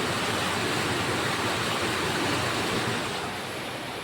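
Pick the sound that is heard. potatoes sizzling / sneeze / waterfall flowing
waterfall flowing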